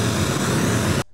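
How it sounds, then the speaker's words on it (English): A pink noise test signal plays through a car audio system. It is a loud, steady, even hiss across the whole range that cuts off abruptly near the end, with no voices. "but what is constant is pink noise."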